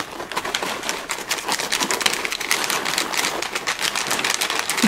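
Cheddar goldfish crackers rattle and rustle as they are shaken in their container, a continuous dense pattering with rapid rhythmic pulses, close and fairly loud throughout.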